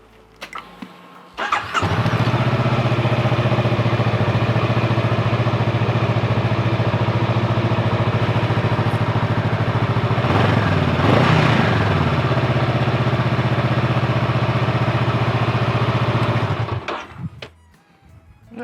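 A Honda Rebel 500 motorcycle fitted with a GIVI rack fires up and idles steadily and loudly close by for about fifteen seconds before shutting off, with no talking.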